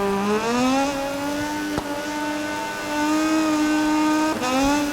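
Moto2 racing motorbike engine in the MotoGP20 video game, a loud, steady high-revving whine with harmonic pitch rising and settling through gear changes, two sharp shift blips breaking the drone, the bike sliding and losing front grip.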